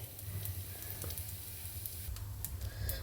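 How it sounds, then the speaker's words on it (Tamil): Broken urad dal dry-roasting in a pan for a Kerala-style idi chammanthi powder, a faint steady rustle with a few light scrapes and ticks throughout. "இதை வறுத்து அடுத்த ஸ்டெப்பு இதை வறுத்துக்க வேண்டியது தான்"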